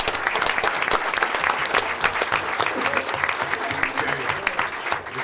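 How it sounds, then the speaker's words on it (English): Applause from an audience at a school board meeting, honoring a bowling team and its coach: dense, steady clapping that goes on for several seconds at an even level, with some crowd noise mixed in. "so let's give them one more round of applause."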